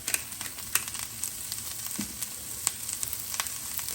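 Shredded cabbage fries in a hot pan with salt and pepper, giving a steady close sizzle broken by light scraping and crackling ticks as it is tossed.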